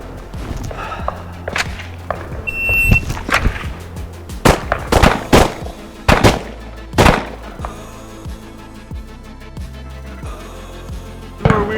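Handgun shots drawn from the holster at 7 yards, a series of sharp loud cracks spaced unevenly across the stretch, with quieter thumps and handling noises between them and no talking.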